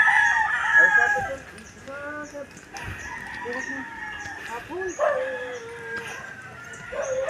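Chickens crow and cluck repeatedly at moderate distance, several calls overlapping across the clip, with outdoor background noise and a faint dog-like howl.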